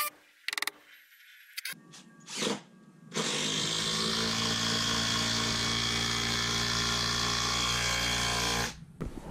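A power tool driving lag bolts into wooden joists, a few short bursts and clicks at first, then a loud continuous whirring drive lasting several seconds before stopping abruptly.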